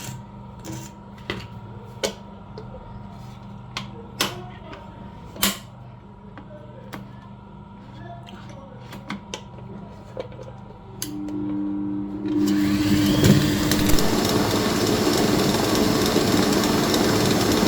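Sugar and butter being mixed for red velvet cake: scattered clicks and knocks in a quiet kitchen, then a loud steady whirring mixing sound starts partway through and runs to the end.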